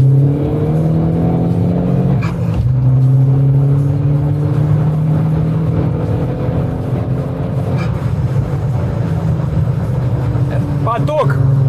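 An Audi RS5 quattro tuned to 550 hp accelerates hard in a drag race, its engine roaring loudly and continuously as the pitch climbs through the gears, with a voice talking over it.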